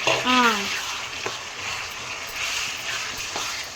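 Chicken pieces dropped into a hot kadai for Telugu-style kadai biryani give a steady broadband sizzle with a couple of stirring clatters, close by, while a voice speaks briefly over the start.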